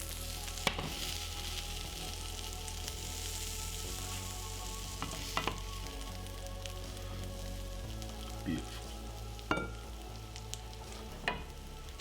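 Onions sizzle and crackle in a pan during cooking, a steady close frying hiss with scattered pops and a few light utensil knocks, and one short spoken word partway through.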